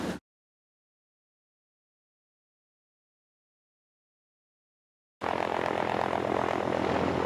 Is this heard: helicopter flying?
yes